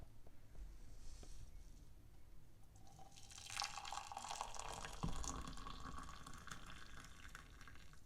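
Just-off-the-boil water is poured for oolong tea, a soft close trickle that swells into a steadier stream with light splashes partway through, in a quiet ASMR setting without speech.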